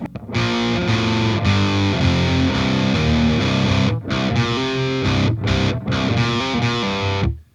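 A heavily distorted electric guitar plays a steady riff with sustained chords and hammered notes, loud and up front, briefly cutting out a few times.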